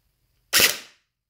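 A single sharp shot from a spring-powered gel blaster, a short snappy crack with a brief tail, close and loud against otherwise near silence.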